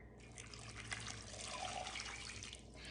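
Water pours steadily into a soup pot for shrimp chowder, a soft continuous trickling splash that stays even and fairly quiet throughout.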